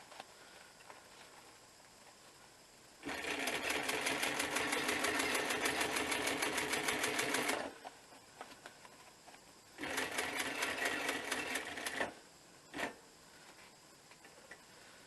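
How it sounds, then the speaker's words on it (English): Sewing machine stitching a bushcraft working vest: two close, fast rattling runs of stitching, each several seconds long, separated by quiet pauses, followed by a single short burst. "I'm just going to sew down at the bottom again"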